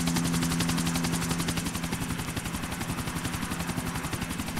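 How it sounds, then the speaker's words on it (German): Steady, rapid rotor chopping of a helicopter in GTA IV: The Ballad of Gay Tony, loud and close, pulsing evenly throughout with a faint engine whine at the start. "Da sitzen wir auch schon perfekt im Helikopter drin."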